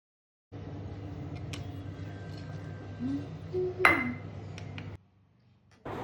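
Amla pickle is mixed with spices in a metal vessel, giving a steady scraping stir with a few sharp clinks and pings near the end before stopping, close and moderately quiet.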